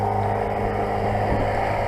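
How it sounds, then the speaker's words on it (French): Small inboard engine of a sailboat motoring under power with sails down, a steady low droning hum running continuously and evenly at close range with no talk. "c'est un petit moteur qui consomme rien"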